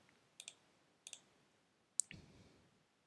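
Computer mouse clicks on a software save button: two soft double clicks, then a sharper single click followed by a short rustle, close and quiet with no talking.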